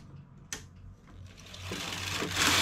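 Knitting machine carriage sliding across a row of raised needles, starting with a sharp click then building into a rising mechanical rasp and whir that grows louder toward the end, with no voices.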